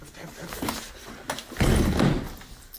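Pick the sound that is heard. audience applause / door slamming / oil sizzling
door slamming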